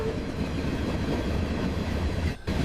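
Synthetic rumbling train noise generated by AI, a dense steady clatter like rolling rail cars and wheels with a brief dropout near the end; no distinct whistle tone stands out.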